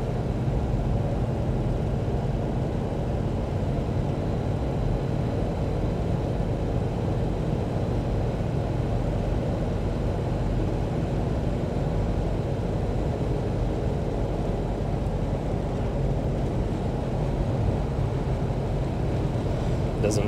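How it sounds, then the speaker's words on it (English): A steady, low turbo diesel engine hum from a Toyota Land Cruiser 60 Series with a 5-speed drones on without change, loud and constant throughout. "the big humming diesel in front of you"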